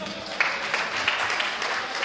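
Soft, steady applause from a mushaira audience in Pune, a gentle continuous patter of many hands with a few sharper claps, no voices.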